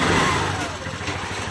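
Engine of a Piaggio three-wheeler revved up after a fuel pump repair, a steady close, loud mid-pitched running note that rises and then holds through the whole short moment.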